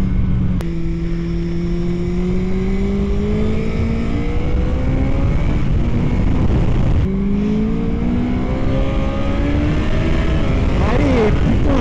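Motorcycle engine revving while ridden, two long rising pulls with climbing engine pitch under steady wind roar, close and loud, with a voice speaking over it.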